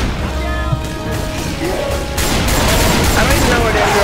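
Gunfire in the zombie shooter Left 4 Dead 2, a dense, steady volley of shots that grows louder and busier about halfway through, with game noise all around.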